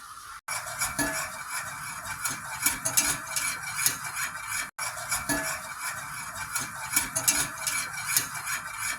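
A spoon stirs milk and mahalabia powder in a pot, scraping and clinking against the metal in a steady, close rhythm, with two brief cuts in the sound.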